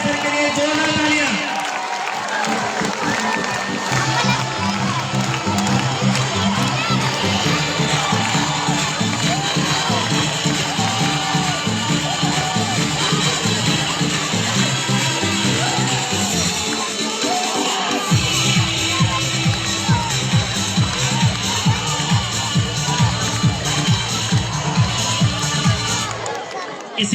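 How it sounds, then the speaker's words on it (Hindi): An audience at a school Teachers' Day celebration keeps up loud, sustained clapping and cheering for a long stretch, with rhythmic music pulsing underneath and a brief dip before the crowd noise resumes. "आदरणीय राजेश जी सर के लिए जोरदार तालियां"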